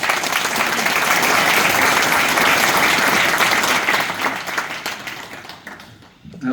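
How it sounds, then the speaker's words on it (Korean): Audience applause at a church gathering for a Methodist policy meeting, dense steady clapping from a crowd that carries for several seconds before fading out. "우리 박수 한번 쳐주시죠."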